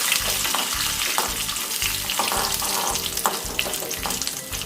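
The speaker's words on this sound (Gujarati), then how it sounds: "1 સૂકું લાલ મરચું એડ કરીશું।" Dried red chili sizzling and crackling in hot oil as a tempering for coconut chutney, a steady close frying hiss with soft stirring scrapes and a few brighter pops throughout.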